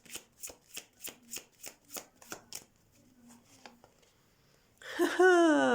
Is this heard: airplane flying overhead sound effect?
no